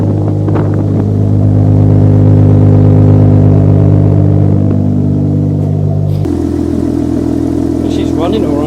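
A Toyota Soarer SC300 with a 1JZ twin-turbo engine idles close by with a deep, steady rumble, shifting pitch slightly partway through and continuing loud and unbroken throughout.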